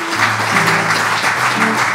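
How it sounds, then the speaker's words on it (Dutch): Applause at a Dutch health café evening in Venray, with clapping beneath steady musical tones throughout. "geef ze een groot applaus"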